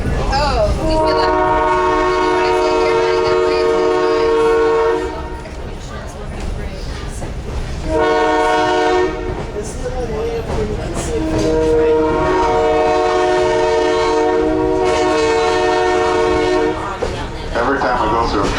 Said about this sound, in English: Every time we go through a crossing, the engineer is required to blow the horn